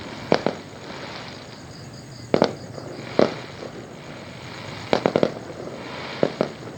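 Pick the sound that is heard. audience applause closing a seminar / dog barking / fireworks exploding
fireworks exploding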